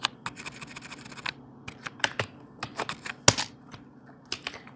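Quick clattering keystrokes on a computer keyboard as code is typed for a Bootstrap grid layout, uneven bursts of taps and a few sharper key hits, close and clear with no talking.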